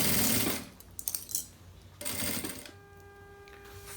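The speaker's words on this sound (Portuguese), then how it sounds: "Só vem fechando aqui, fecha a volta toda, tá?" Sewing machine stitching a handbag closed, bursts of fast mechanical whirring in short runs with pauses between, close, followed by a faint steady hum.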